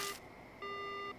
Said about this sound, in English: but the phone immediately goes dead.